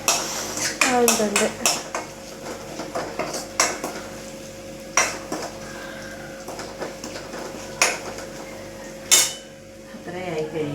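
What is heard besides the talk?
stirring and sautéing in a pan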